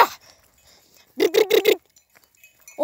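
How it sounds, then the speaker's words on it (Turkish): A single sheep bleat in a quick wavering series of pulses, loud and close, with faint rustling and quiet surroundings before and after, in a grazing pasture. "Koyunlar şuranın içerisinde otluyor, şurada gördüğünüz gibi."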